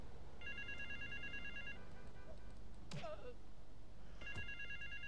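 Phone ringing in the video game GTA Vice City, two bursts of an electronic trilling ring a few seconds apart, with a brief voice and game background sound between them.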